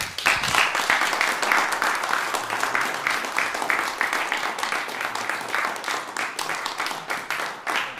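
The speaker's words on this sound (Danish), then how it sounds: "og lad os lige give dem en hånd igen." An audience at a choir's Christmas concert claps steadily and warmly, the dense even applause filling the hall for several seconds with no break.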